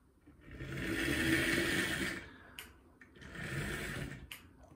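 A model train locomotive's small electric motor whirs loudly in two sustained runs with a short pause between, a rough buzzing drone that rises and fades.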